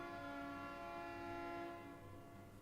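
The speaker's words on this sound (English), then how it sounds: "Some type of train is coming through." A train passes close by, its horn sounding as a sustained tonal blare over a low rumble that gradually fades after a couple of seconds.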